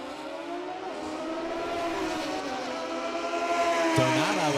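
Drag racing motorcycles at the ManCup World Finals roar down the strip, a steady, loud high-revving engine drone with rising and falling harmonic whine that builds toward the end, no talk over it.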